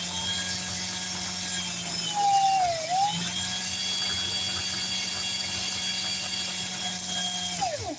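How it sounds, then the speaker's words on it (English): Thread winding onto a fly-tying bobbin, a steady mechanical whir with a faint ratcheting tone, briefly shifting pitch midway and again near the end, close and continuous with no talking. "This thread's going on one bobbin."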